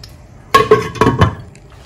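A metal lid is set onto a pot of stew, giving a short cluster of close, bright clanks and clinks over about a second, then quiet.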